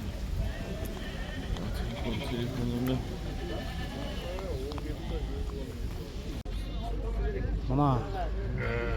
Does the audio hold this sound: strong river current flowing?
no